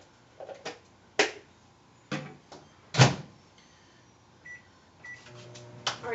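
Sharp, irregular pops burst out one at a time with pauses between them, over the low steady hum of a running microwave.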